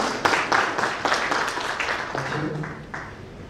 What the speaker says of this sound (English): Good clap for Mr. Humphrey, please.